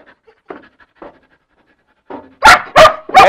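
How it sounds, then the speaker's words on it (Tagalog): A Belgian Malinois barks on command: soft panting and whimpering at first, then three loud, sharp barks in quick succession at the end. "Nihintay ko lang siyang tumahol."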